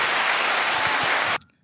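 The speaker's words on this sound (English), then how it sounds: "Man, they were clapping harder." Dense, loud applause from a comedy show audience for comedian Keeley Allison, steady for over a second before cutting off abruptly into near silence.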